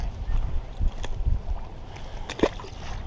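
Gusty wind buffets a microphone out on the water while fishing from a boat, with low rumbling bursts and occasional sloshing and knocks near at hand.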